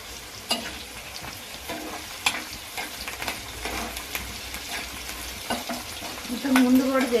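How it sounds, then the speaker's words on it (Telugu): Curry leaves sizzling and crackling in hot tempering oil while being stirred, a steady close fry with scattered pops and scrapes, with someone talking softly over it. "ఇది ఎర్రగా అయినాక, కొంచెం ఎర్రగా అయినాక కరివేపాకు కూడా ఇప్పుడు వేసేస్తాను."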